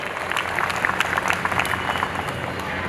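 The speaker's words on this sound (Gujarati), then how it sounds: "આમના માટે જોરદાર એકવાર તાળીઓથી એટલા માટે વધાવજો" A seated audience at a family get-together bursts into sustained, dense applause, many hands clapping together at close range for about three seconds with no speech.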